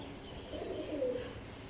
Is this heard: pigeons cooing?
yes